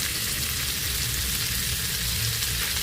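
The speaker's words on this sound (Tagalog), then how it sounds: "Saka natin i-sear ang ating breast chicken." A chicken breast sears in melted butter in a hot pan, with a loud, steady, close sizzle and frying crackle throughout and no talking.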